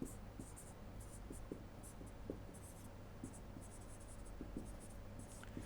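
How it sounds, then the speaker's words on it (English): Handwriting during a pharmaceutical biotechnology lecture, a light continuous scratch of strokes with small taps, fairly quiet against a steady room hum. "let me write"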